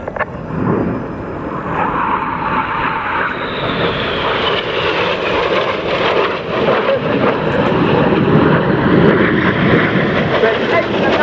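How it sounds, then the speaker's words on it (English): Red Arrows jets diving low over the airfield at RAF Cosford Airshow, a loud continuous roar that swells toward the end, with a public-address voice talking over it. "Each pair will now dive down to only 100 feet above the airfield."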